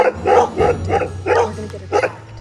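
Several stray dogs bark repeatedly in the street, close and loud, in an uneven rhythm of yips and bow-wows over a low rumble.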